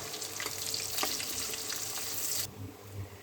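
Two large chopped onions fry in oil with bay leaf and whole spices, making a loud, steady, close sizzle with light stirring that suddenly drops to a softer crackle near the end.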